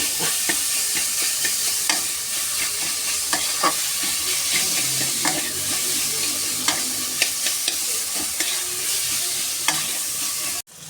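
Cauliflower filling with ground cumin, coriander and a pinch of sugar is stir-fried in a hot pan, loud continuous sizzling with repeated spatula scrapes and taps at an uneven rhythm, close up.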